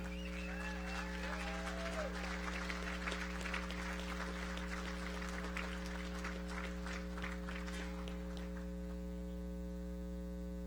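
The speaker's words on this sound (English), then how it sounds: "please give a round of applause for Mr. Kurt Parkan from Donlin Gold." Audience applause at the 2016 Iron Dog awards ceremony, a steady wash of clapping that runs for about eight seconds and then stops, heard over a strong, constant electrical hum.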